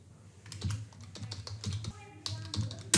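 Computer keyboard typing while entering a task description, a steady patter of close, clicky keystrokes with irregular rhythm and a louder final tap, with a faint voice underneath.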